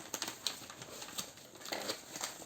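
Scissors snip and crinkle through a package's wrapping, with short crisp cuts and rustling bursts close by, no talking.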